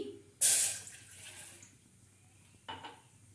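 Water splashes loudly into a metal pot for about a second while cooking payasam, followed by a brief second pour and faint kitchen clatter.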